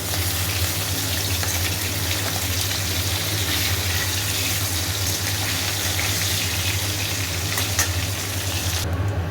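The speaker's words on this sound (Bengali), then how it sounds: "মাছ ছেড়ে দিয়েছি, ভোলা মাছ, ভালো করে এগুলো হোক" Bhola fish frying in a pan gives off a loud, constant sizzle that runs unbroken for about nine seconds, with a low steady hum beneath it and no talking.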